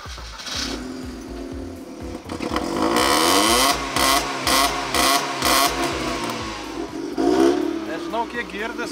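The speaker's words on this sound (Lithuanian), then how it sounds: "Užvedam auto variklį." A Mercedes car engine starts and settles into a running idle, close and fairly loud, with rising revs and a steady mechanical drone; a voice talks over it.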